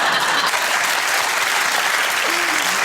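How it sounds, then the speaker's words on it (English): A studio audience at a TV comedy panel show applauds throughout, a dense, steady wash of many hands clapping with no pauses. "Not everyone applauding."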